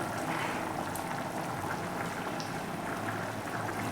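Vegetable curry with cumin powder, garam masala and coriander leaves cooking in a pan, a continuous soft bubbling and sizzling hiss with no voices over it.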